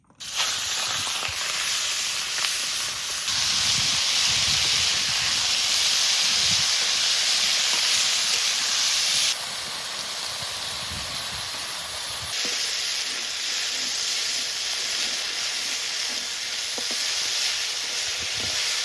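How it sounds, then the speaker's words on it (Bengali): Tiger prawns crackle and hiss in hot oil in a home kitchen, a loud, continuous sizzle that swells and drops in intensity as they cook, with occasional stirring scrapes and no talking. "তেল ভালো করে গরম করেছি, এবার চিংড়ি মাছ দিয়ে দেবো"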